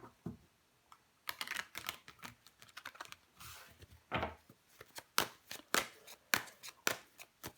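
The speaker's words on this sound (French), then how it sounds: "Mais on va recouvrir des cartes." Tarot cards laid out on a surface for a reading: a string of sharp, close taps and soft slaps, some quick clusters and some spaced single hits, heard without speech.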